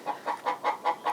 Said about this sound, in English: The chickens are distracting me.